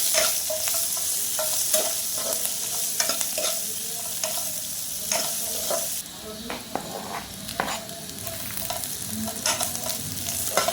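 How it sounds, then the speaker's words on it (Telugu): Onions and bay leaves fry on a medium flame for coconut rice, with a steady sizzle broken by repeated sharp clinks and scrapes of a spoon stirring against the pan. "ఈ మిక్చర్ని మొత్తం కూడా మీడియం ఫ్లేమ్లో 5 నిమిషాల వరకు రెడ్ కలర్ వచ్చినంత కూడా మీడియం ఫ్లేమ్లో వేయించుకోవాలి"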